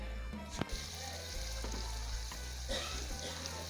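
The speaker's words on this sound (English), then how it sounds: "Cover it up for it to simmer for 2 seconds" Vegetables for spring rolls simmer in a covered pan, a steady soft frying hiss with a sharp knock early on and a few faint clicks.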